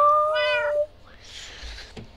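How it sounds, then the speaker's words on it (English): A single clear cat meow, drawn out and tonal, followed by quieter rustling and a faint click. "Tuxie, one of these days you will make a good member of the cat choir."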